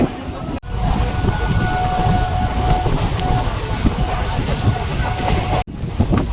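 A new Krishnanagar to Azimganj passenger train runs along the line, its steady loud rumble and rattle filling the carriage from the inside, with a faint tonal hum and two brief sharp drops in level.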